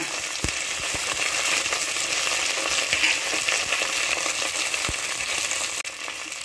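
Green chillies, shallots, curry leaves and garlic sauté in a pan for a bitter gourd curry leaf gravy, giving a dense continuous sizzle with a few sharp metallic taps from the spoon, close up.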